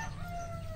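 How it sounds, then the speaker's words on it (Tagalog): Backyard chickens kept at a home, steady clucking and a drawn-out crow close by, filling the short moment without a break. "Ngayon makikita nyo naman ang mga manok."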